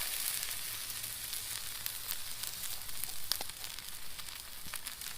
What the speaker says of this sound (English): I put a bit of oil in the pan to cook the fish. Yes, sizzle vizzle